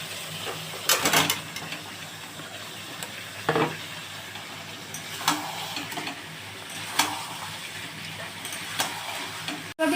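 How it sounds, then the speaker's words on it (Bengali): Boiled potatoes frying in a spice masala for aloo dum, with a steady soft sizzle broken by several sharp scraping strokes of a spoon stirring against the pan, no talking. "এখন মশলাটা একটু কষা হবে বন্ধুরা। হয়ে গেছে, আমি এর মধ্যে আলু সেদ্ধগুলো ঢেলে দিচ্ছি।"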